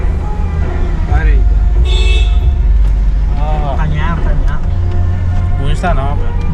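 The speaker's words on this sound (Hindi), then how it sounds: "भैया इसको हॉर्न सुनो" Car horn honking on a street from a Toyota Fortuner, with traffic noise around; a few short toots sound amid steady engine rumble while people talk over them.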